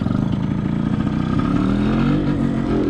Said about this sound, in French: Ce qui démarre mon scooter.